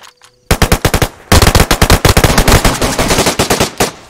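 Gunfire in the video game DayZ comes as loud, close automatic bursts, a short volley followed by a longer rapid stream of shots.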